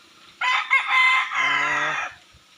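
A gamefowl rooster lets out a single loud, close cock-a-doodle-doo crow lasting under two seconds, with quiet surroundings before and after.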